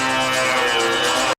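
Two C-drone sitar intros from two songs play on top of each other as a dense, buzzing wash of sound that holds steady, then cuts off abruptly.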